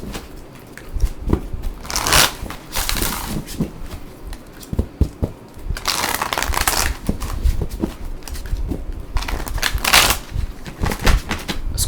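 Playing cards being shuffled nearby in several bursts of rapid riffling and crisp flicking, with short pauses between attempts.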